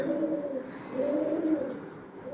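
A large Netherlands-bred racing pigeon from 2019 coos softly nearby, a low throaty rolling call repeated a couple of times over a quiet background, in a pigeon loft.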